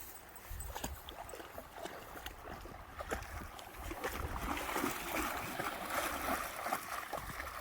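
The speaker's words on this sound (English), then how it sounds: "There's a creek that flows back behind it." A creek flowing behind a campsite in Routt National Forest, a continuous gurgling trickle of water close by, with scattered rustling and handling noise over it and the flow growing slightly louder later.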